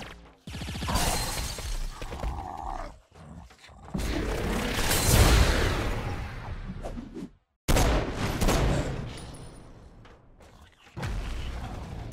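Gunfire and explosive blasts from the Saints Row IV video game come in long, dense bursts, loud and close, broken by brief silent gaps.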